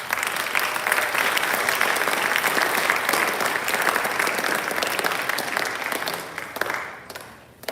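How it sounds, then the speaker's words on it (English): A school senior awards ceremony audience gives a steady round of applause, dense and even clapping that carries on for several seconds before tapering off. "So please give them a round of applause."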